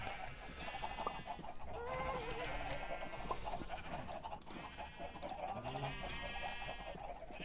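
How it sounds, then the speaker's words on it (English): Chickens clucking in Minecraft, a steady low-level barnyard ambience of repeated short clucks and faint squawks with no talking over it. "Hello chickens."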